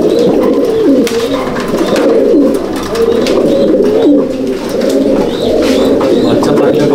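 Beauty Homer fancy pigeons coo steadily in a loft in Howrah, a dense chorus of low, rolling calls from several birds close by, continuing throughout.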